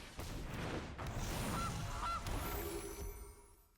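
A cartoonish goose honk played as a card effect in the video game MTG Arena, two short honks rising out of a dense burst of game sound effects that fade away, with no talk.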